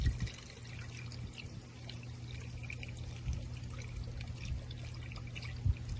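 Pre-mixed 50-50 antifreeze pours steadily into the radiator of a 2014 Dodge Ram 1500 with a 5.7L engine, a soft continuous trickle heard close by with no talking.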